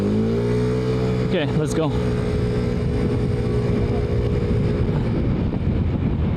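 A Yamaha Force 155 scooter rides along the road, its engine droning steadily up close with a brief rising rev near the start, while a rider speaks a few words over it.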